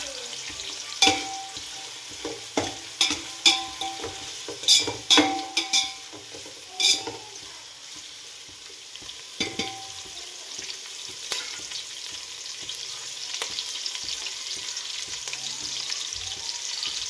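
Onions and green chilies sauté in a pan. A run of sharp spatula scrapes and clanks against the pan comes first, then a continuous sizzling hiss builds and carries on with occasional utensil knocks.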